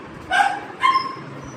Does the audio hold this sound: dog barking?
yes